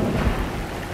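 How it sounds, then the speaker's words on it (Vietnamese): Steady rain pours down outdoors as a dense, even hiss with a low rumble beneath, loud and continuous, no voices. "Đây là trời đang mưa nghe mọi người."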